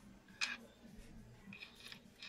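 Jewelry wire is snipped for a handmade earring, giving one sharp close click followed by a few fainter ticks of handling over a quiet background.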